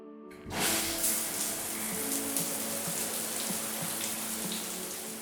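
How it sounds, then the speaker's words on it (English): Shower water switches on abruptly and then runs in a dense, steady hiss and patter that stays fairly loud and even until the end, with no voices. "Gonna hop into the shower."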